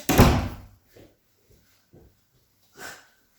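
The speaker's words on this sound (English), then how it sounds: "Shut the door, please." A door shuts at the start with a loud, close thud that fades over about half a second, followed by a few faint, scattered knocks and rustles and a brief soft noise near the end.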